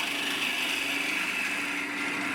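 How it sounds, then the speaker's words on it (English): A straight Easy Wood hollowing tool cuts into locust wood spinning on a lathe, making a continuous close, steady scraping hiss with the whir of the lathe beneath, and no pauses. "here I'm using my Easy Wood hollowing tool, the straight one, just to hollow the dish out"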